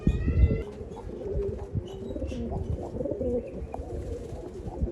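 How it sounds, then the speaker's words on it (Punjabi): A pair of pure Hazar wali breed pigeons coos nearby in Moga, soft repeated throaty calls over low background rumble, with brief higher chirps at the start. "ਬਿਲਕੁਲ ਤੰਦਰੁਸਤ ਕਬੂਤਰ ਨੇ ਕੋਈ ਬਿਮਾਰ ਨਹੀਂ"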